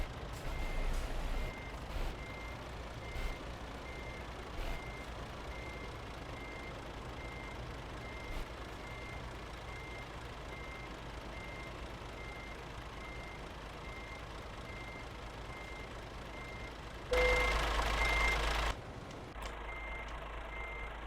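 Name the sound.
truck reversing beeps in Euro Truck Simulator 2, video game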